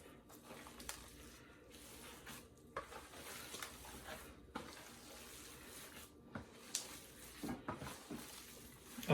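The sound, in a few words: mixing ground meat with garlic and burgundy wine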